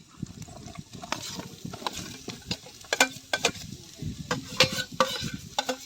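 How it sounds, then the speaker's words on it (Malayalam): Green chillies and sliced onions sizzling in a hot pan while being stirred, with a soft steady fry and frequent scraping, clinking stirs of a spoon against the pan, close and fairly quiet. "അതിലേക്ക് നമുക്ക് വലിയ ഉള്ളിയും കൂടി നമുക്ക് ഇട്ട് കൊടുക്കാം"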